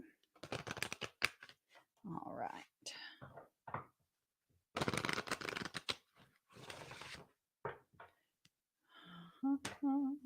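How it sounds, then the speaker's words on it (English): Bursts of crisp riffling as a deck of playing cards is shuffled several times, separated by pauses, with a few quiet spoken words between. "Let me just shuffle these cards."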